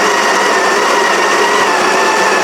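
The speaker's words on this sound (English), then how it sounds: "Just let it finish grinding." Sage Grinder Pro grinding medium-roast coffee into a portafilter, a loud, steady, high-pitched whirring drone that continues throughout.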